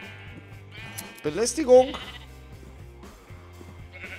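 Sheep in the video game Minecraft bleat in short wavering calls over a looping game melody, while someone speaks excitedly in German between and over them.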